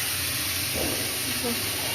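Spices and turmeric frying in a pan for a prawn and egg roll dish, a steady close hiss and sizzle running throughout with faint voices underneath.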